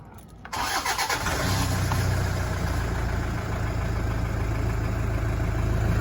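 A Toyota Land Cruiser Prado 120 series engine with a newly fitted starter motor cranks briefly, catches and settles into a steady, close idle.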